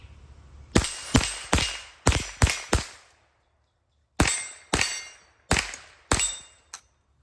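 Winchester Wildcat .22 rifle firing ten sharp shots outdoors, a quick string of six followed after a short pause by four more, each crack ringing with a metallic tail.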